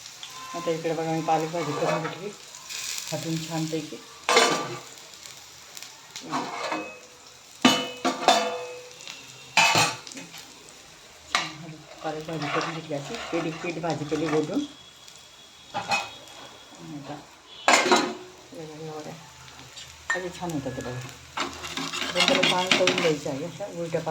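Coriander vadi fry in oil in a pan over low heat, a soft sizzle with repeated clinks and scrapes of a utensil against the pan, while someone talks throughout.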